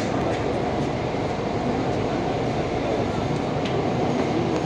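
A metro train runs through a tunnel beneath the Ganges river, heard from inside as a loud, unbroken roar of wheels and rails with a faint high whine, constant throughout.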